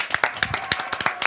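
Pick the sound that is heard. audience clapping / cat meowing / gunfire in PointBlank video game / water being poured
audience clapping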